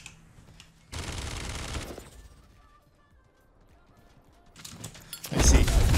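Minigun in the video game Realm Royale fires in rapid bursts, a dense rattling stream of shots that spins up and cuts off, then returns louder at the end over low background noise.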